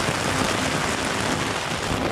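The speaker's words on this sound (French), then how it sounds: "Non, il pleut!" Heavy rain pouring down during a storm, a dense, loud, steady hiss with a gusty, wind-like texture that stays constant throughout.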